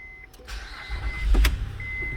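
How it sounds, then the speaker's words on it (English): A Honda Pilot engine cranks and catches close by, a short starter whir followed by the engine firing up and settling into a low idle rumble, with faint electrical chimes from the car. "Let's just start the car."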